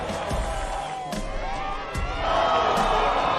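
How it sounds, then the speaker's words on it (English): A crowd at the Oi Rio Pro surf contest finals cheers with scattered shouts that swell into a louder, sustained roar partway through. "Crowd goes nuts."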